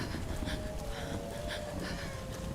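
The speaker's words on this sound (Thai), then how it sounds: "โอ้โหมีเสียงหมาหอนด้วยนะครับ" A dog howls in the Tomb Raider video game, one long, drawn-out wavering tone that holds steady over a soft, constant wind-like background at moderate volume.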